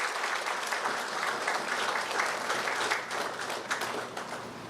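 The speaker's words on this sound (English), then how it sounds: "Let us give her a hearty round of applause." A Rotary club audience at an evening meeting gives a hearty round of applause, dense continuous clapping filling the room at a steady level before easing slightly toward the end.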